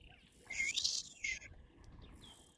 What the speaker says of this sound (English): with that bird of prey that I could hear vocalizing